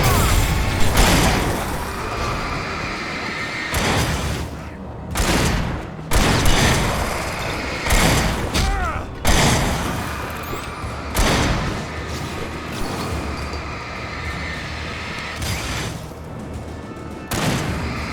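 Sustained gunfire with unlimited ammunition in Alan Wake Remastered, repeated loud bursts of shots and booming blasts over rumbling background noise, continuing throughout.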